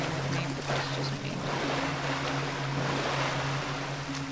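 Water moves and sloshes in the video game Bioshock, a constant rushing wash with a low mechanical hum underneath, filling the space evenly and close.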